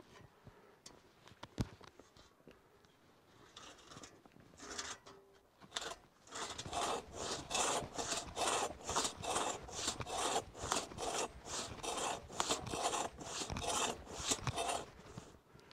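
A sharpened, restored crosscut saw cuts cordwood, starting with a few scattered knocks and scrapes, then settling into a steady, rhythmic rasp of back-and-forth strokes close by with no talking.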